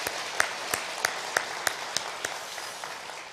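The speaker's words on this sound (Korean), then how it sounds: "우리 큰 박수 한번 합시다." A church congregation applauds the musicians at a Christmas thanksgiving service, a soft diffuse wash of clapping with a few sharper claps recurring at a steady pulse, fairly distant and quiet.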